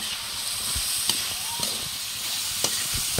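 Vegetables, including Baguio beans, sizzle in a pan: a close, steady hiss of frying with a few soft clicks and scrapes of stirring, and no talk over it.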